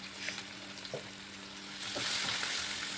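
A spatula stirs turmeric, black masala, kitchen king masala and salt in hot oil in a frying pan. The sizzle and scraping are continuous and close, growing louder toward the end, with no talking.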